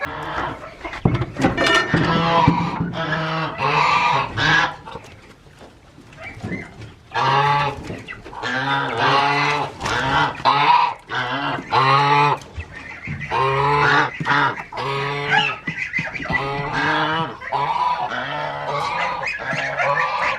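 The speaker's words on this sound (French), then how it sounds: "les oiseaux sont avec tous les autres et ça s'entend très bien" A crowd of farm ducks, geese and other farm birds honk and quack loudly and continuously, overlapping calls close by with only a brief lull midway.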